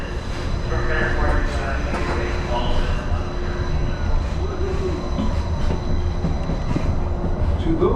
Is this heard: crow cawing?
no